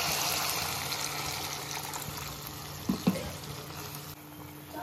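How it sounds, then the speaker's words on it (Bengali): Water goes into sizzling fried masala in a pan for a palak paneer kofta curry, a steady frying hiss with a couple of sharp knocks near the end before the sizzle drops and quiets. "মশলাটা আমার কষা হয়ে গেছে, তেলের ওপর এসে গেছে। আমি এতে জল দিয়ে দেবো।"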